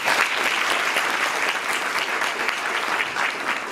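Dense, steady audience applause at a forum event in Azerbaijan, a full room clapping loudly and continuously with no voices on top.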